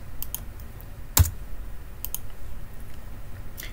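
A few sharp computer mouse clicks while a SolidWorks sketch is being edited: one louder, close click stands out among sparse, fainter taps over a quiet background, with no talking.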